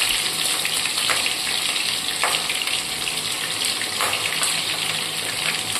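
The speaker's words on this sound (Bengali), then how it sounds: "এ দেখো, তেল গরম হয়ে গেছে। এর তেলের মধ্যে আমি ফুলকপিগুলো দিয়ে দেবো।" Cauliflower florets, washed and dusted with powder, hit hot oil in a kadai and fry with a steady, bright sizzle and crackle, a few sharper bursts popping through the continuous hiss; no voices.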